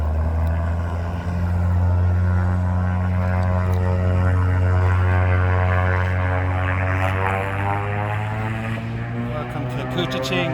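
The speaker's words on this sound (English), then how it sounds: "Get the plane in the background." Propeller airplane droning low over Lake Couchiching on Remembrance Day, a loud steady engine hum holding for the whole stretch with a rising and falling tone, close and dominant outdoors.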